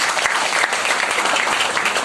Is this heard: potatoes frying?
no